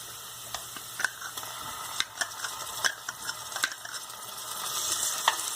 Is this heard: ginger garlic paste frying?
yes